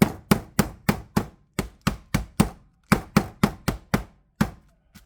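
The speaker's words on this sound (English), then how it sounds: "I'm going to pound the first chop." A meat mallet pounds a bone-in pork chop thin for schnitzel in a home kitchen, with about sixteen sharp, close thuds struck in quick irregular bursts with short pauses between them.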